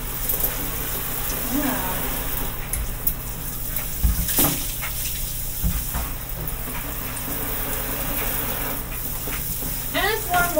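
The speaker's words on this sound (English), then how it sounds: "we're just gonna rinse the disinfectant out of it" Running water rinses disinfectant out of a hairbrush, producing a steady close splashing hiss with occasional clunks and a brief spoken word over it.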